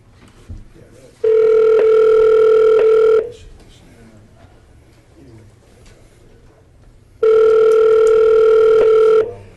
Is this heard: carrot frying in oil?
no